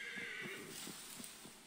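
A horse in Assassin's Creed Valhalla whinnies in a drawn-out, shrill neigh with faint hoof clops underneath, moderately quiet.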